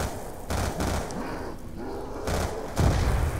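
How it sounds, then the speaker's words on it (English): Shotgun blasts in Black Ops 2 Zombies on the Town map: a few heavy, booming shots spaced apart over a constant busy game background. "Oh wait, this is a shotgun, duh."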